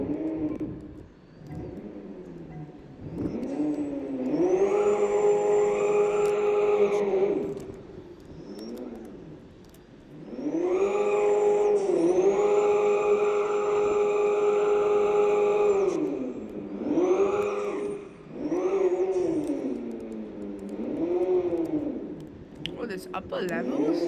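A car engine in the Roblox video game revs repeatedly in loud, near bursts, rising and holding in pitch then dropping back, with several separate revs across the stretch and a player talking at times.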